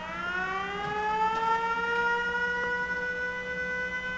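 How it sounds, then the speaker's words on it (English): An alarm siren in Fallout 4 wails continuously with a slowly rising tone, loud and sustained, with no talking over it. "I don't know where that alarm would be coming from."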